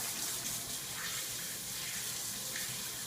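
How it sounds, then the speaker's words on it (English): Hot water runs steadily from a kitchen tap, a continuous broadband gush of flowing water, fairly loud and close, with no talking over it. "I like the water hot, so I'm going to let that run a little bit until it's actually really hot"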